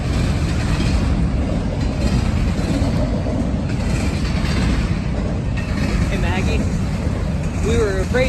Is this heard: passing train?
yes